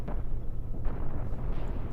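Large cannon hits land in a Cosmoteer space battle between ships, a few heavy explosive impacts spaced about a second apart over a low, steady rumble, loud and close, with no talking.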